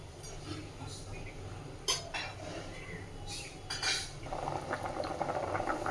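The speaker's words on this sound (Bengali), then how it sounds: "দেখুন বন্ধুরা ঝোলটা টকবক করে ফুটতে শুরু করেছে খুব সুন্দরভাবে" Masoor dal broth with potatoes bubbles steadily in a pot, a low, continuous boil with a few metallic clinks, close and moderately quiet.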